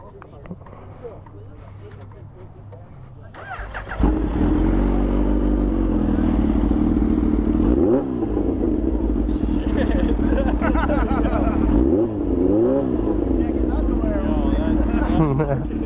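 A Kawasaki Ninja H2 sits idling at a Ducati meet, then the engine catches into a loud, close, rough running note with several sharp throttle blips, while people chat nearby.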